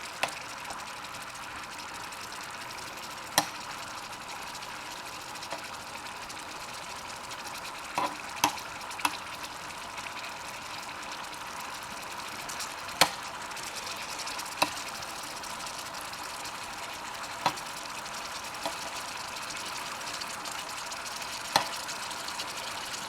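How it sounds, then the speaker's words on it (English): Sardines and onions frying in a pan, a steady close sizzle running throughout with scattered sharp pops and crackles breaking above it, no talking. "we're going to fry this until the onions clarify"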